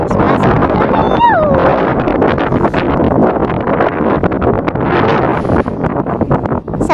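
Strong wind in a park buffets the microphone in a constant, heavy roar that stays loud throughout, with a brief whistling tone near the start.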